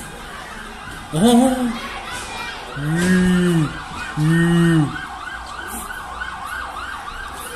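A police siren wails at a street protest in Santiago, Chile, rising and falling in three loud bursts close by, over crowd noise with a brief spoken word.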